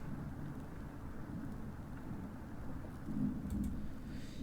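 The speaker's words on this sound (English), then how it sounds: "It's raining again." Steady rain with low rumbling thunder in the video game Cooking Companions, a continuous wash of rainfall that swells briefly near the end.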